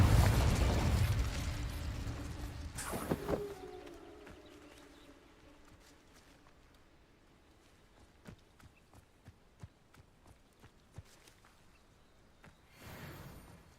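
A Confringo spell explosion in the video game Hogwarts Legacy opens with a loud, deep blast that rumbles and fades, followed by a second burst and then sparse faint clicks and taps.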